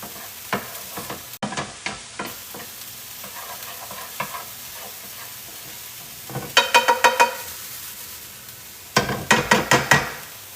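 A spoon stirs ingredients for a creamy tuna pasta in a hot pan, producing repeated scraping strokes over a soft sizzle, with louder rapid bursts of stirring near the end.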